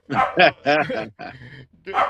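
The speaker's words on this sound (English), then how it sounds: "say good night to the puppy too" A puppy yips and barks in a few short, close bursts with brief gaps between them, loud and near, at the close of an evening talk with a wrestling guest.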